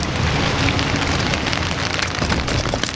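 Steady, loud rain pours onto a hard surface close by, a dense patter of drops with no breaks and no voices.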